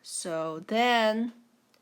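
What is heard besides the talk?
No everyday noises stand out.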